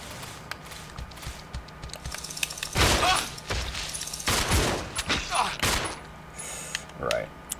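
Bursts of video game gunfire in Resident Evil Zero come in loud clustered volleys, with someone talking over the shots.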